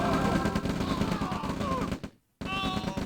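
Gunfire from units in the real-time strategy game OpenRA Red Alert, a dense, continuous rattle of game combat sound that fills the mix, briefly drops to silence, then resumes.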